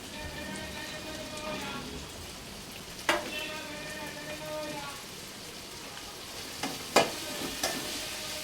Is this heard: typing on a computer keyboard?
no